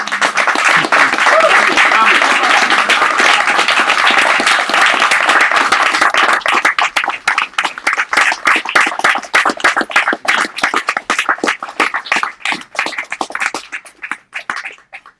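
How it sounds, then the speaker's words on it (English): Loud, dense audience applause after a poetry reading, heard over Zoom, gradually thinning into scattered individual claps, with a voice briefly heard over it. "Let's give them another round of applause for a wonderful reading."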